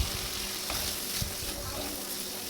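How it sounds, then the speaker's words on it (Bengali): Boiled, mashed potato being stirred into spiced masala in a hot pan for a chickpea bhuna, with a dense close-up sizzle and soft stirring throughout. "একটু মশলার সাথে মিক্স করে নিব আলুগুলি ভালো করে"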